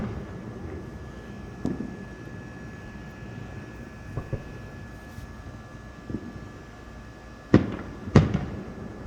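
Fireworks bursting over a heavily forested area by a lake, heard as scattered distant booms with a couple of sharper, louder cracks near the end over a steady background hum.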